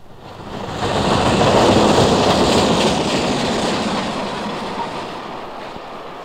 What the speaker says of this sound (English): And last of all,